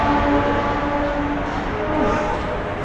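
A train on a Mumbai station platform rumbles steadily as it begins to move, a loud continuous low roar with faint tonal whines and no voices.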